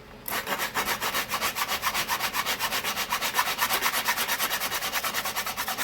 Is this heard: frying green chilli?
no